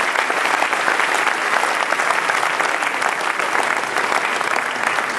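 Sustained, dense applause from a large audience at the opening ceremony of the 2012 Bavarian state exhibition in Burghausen, steady and loud throughout with no voices over it.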